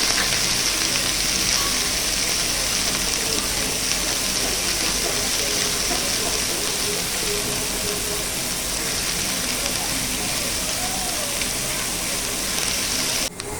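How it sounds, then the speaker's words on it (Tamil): Onions sauté in hot oil in a pan after cumin seeds have crackled, giving a steady, dense sizzle that stays even and close throughout without talk. "வெங்காயம் போட்டு நல்லா வதக்கணும்."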